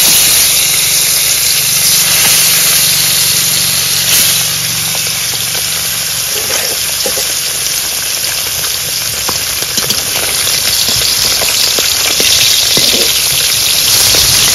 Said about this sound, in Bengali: মাছগুলো ভাজা হয়ে গেছে, এবার নামিয়ে নেব।